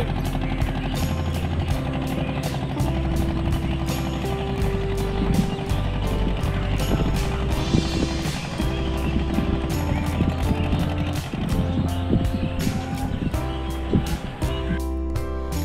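A fishing trawler's engine chugs steadily as the boat pulls away from a riverside landing at Raidighi in the Sundarbans, a fast, regular diesel thumping that stays loud throughout.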